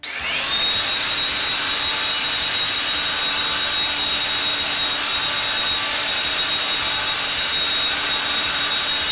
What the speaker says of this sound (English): I've just been grabbing the SKIL blower and it has been phenomenal.